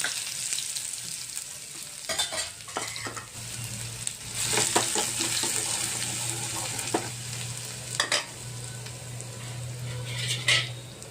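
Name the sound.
tadka of chillies and garlic sizzling in oil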